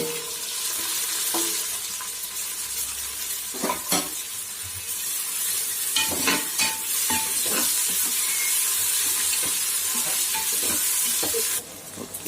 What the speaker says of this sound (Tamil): தக்காளியும் நல்லா டீப் ஃப்ரை ஆகிடுச்சு.